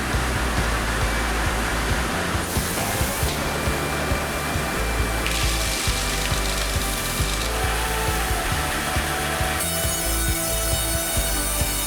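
Wood logs fed through the head saw of a sawmill, a loud, continuous mechanical grinding and whine of the big saw and conveyor machinery that shifts in pitch and texture as each cut progresses, with no talk.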